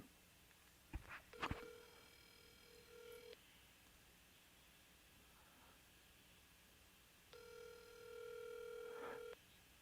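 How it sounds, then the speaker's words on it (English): An outgoing phone call ringing unanswered, with two long electronic ring tones several seconds apart, heard faintly and a little soft through a speaker, with a few clicks and bumps before the first ring. "we're gonna call Carl live on air. Carl won't answer"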